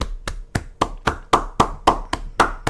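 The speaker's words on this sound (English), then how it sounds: "You're a loud clapper." A person claps hard and loud, about ten sharp smacks at a brisk, steady beat, close to the mic in a quiet room.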